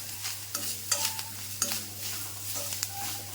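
A spoon scrapes and stirs grated coconut in a frying pan with a steady frying sizzle, irregular scraping strokes close by, no talking.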